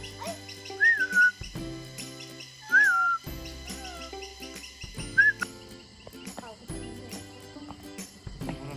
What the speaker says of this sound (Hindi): यहाँ पे एक चिड़िया है, हॉर्नबिल जैसा कुछ लग रहा है, ये काफी बड़ा भरकम चिड़िया है।